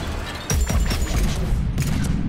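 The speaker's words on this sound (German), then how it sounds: "Und dann werde ich nochmal Granaten werfen." Grenades explode in the game Mass Effect 3, with a loud booming blast about midway, followed by rumbling combat noise and a second crack near the end.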